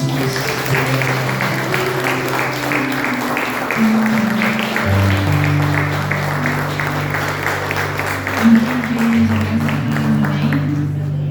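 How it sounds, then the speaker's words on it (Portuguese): A church congregation applauds during a missions worship service, sustained loud clapping from a large crowd over a steady sustained instrumental backing, continuing without break. "aplauda o Senhor Jesus"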